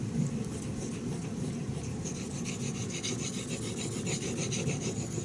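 A 3V steel Gunny Hunter knife sharpened on a fine water stone with a Nagura stone, giving a continuous rhythmic rasping scrape of steel on wet stone, close and steady, with no talking.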